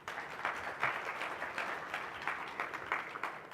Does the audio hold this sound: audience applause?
yes